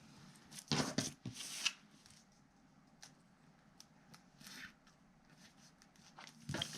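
Scissors trimming excess wallpaper for a stationery craft, a few close crisp snips in quick bursts separated by quieter rustling and handling, no talking.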